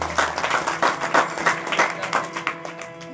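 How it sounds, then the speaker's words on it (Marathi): Audience applause at a devotional kirtan gathering, a short burst of brisk, fairly loud clapping from a crowd that stays even across the few seconds. "या कार्यकर्त्यांसाठी टाळ्या वाजवा"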